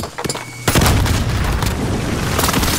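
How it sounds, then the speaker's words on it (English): An airstrike hits in a military video game, opening with a sharp blast and then rolling into a loud, sustained booming rumble that fills the whole stretch, close and heavy. "Allied ground airstrike incoming."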